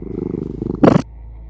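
A chunky 30-pound cat purrs steadily while lying on its owner's chest, a close, low rhythmic rumble with a short louder breathy burst near the end before it quiets.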